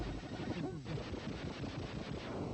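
Rapid gunfire from side gunners in the Battletoads video game, a dense, continuous crackle of retro game shots mixed with explosive rumble, loud and steady throughout.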